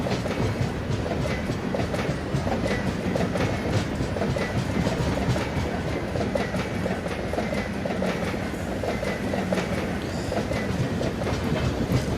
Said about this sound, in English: train number 22849 Salimar to Secunderabad Superfast Express is just ready to departure